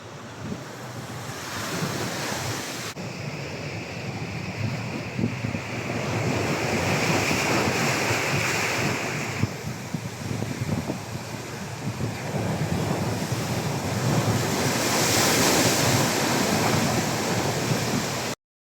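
Sea waves surge into Bharadkhol, a coastal village, with a loud, continuous roar of surf and rushing water, heavy wind buffeting the microphone throughout.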